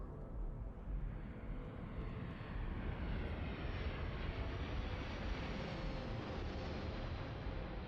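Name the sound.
airplane flying overhead in the Starfield video game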